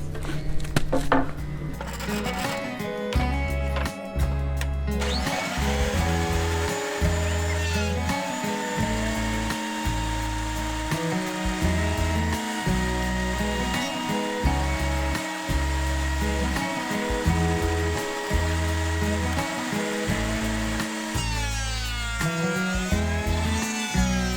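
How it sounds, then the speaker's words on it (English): A costly thickness planer feeds walnut boards, a steady loud mechanical whine and roar holding throughout, with repeated lower surges as each pass bites into the wood. "We gotta plane it first with this really expensive machine right behind me"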